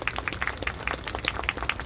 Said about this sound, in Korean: 여러분 연대의 박수 부탁드립니다.